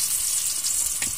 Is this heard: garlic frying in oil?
yes